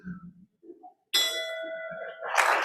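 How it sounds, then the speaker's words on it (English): A single bell struck once at a hybrid meeting, a bright ringing tone with a sharp onset that sustains and decays over about a second, following a few quiet words and then overlapped by clapping. "So just 1 ring for Brian."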